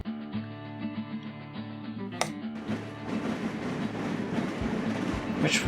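Trains in the video game Train Crisis run along the track with tonal rail hum and rhythmic clatter, a sharp click partway through, then building, louder rolling wheel noise toward the end.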